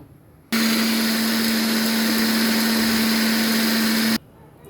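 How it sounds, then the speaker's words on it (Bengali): A kitchen blender whirs steadily while blending oil into homemade mayonnaise. It runs loud and close for nearly four seconds, starting and stopping abruptly. "ব্লেন্ডারে দিব"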